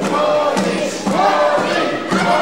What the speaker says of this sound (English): This crowd rooting him on.